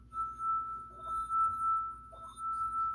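Wine stemware glass sings as its rim is rubbed, holding a single pure ringing tone that sustains steadily, with faint glass clinks underneath.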